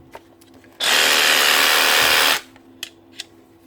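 A DeWalt DCS334 brushless cordless jigsaw runs in a single loud, steady burst of about one and a half seconds, a close high-pitched whirring buzz, with quiet handling clicks before and after.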